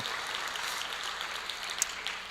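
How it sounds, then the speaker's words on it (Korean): Church congregation applauding after a praise team's worship song at a Wednesday service: a steady, faint wash of many hands clapping, heard from a distance and continuing evenly throughout. "우리 박수 한번."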